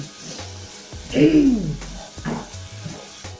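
Cabbage and ginger frying in a pan while being stirred, with a steady close sizzle and scraping strokes that swell in the middle, and brief voice-like sounds mixed in.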